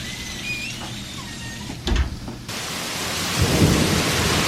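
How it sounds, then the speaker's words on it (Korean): Thunder rumbles amid steady rain during a thunderstorm, a loud low boom rolling in the middle and again near the end over continuous hissing rainfall, with no talk. "번개도 치고 비도 오고 난리가 났습니다."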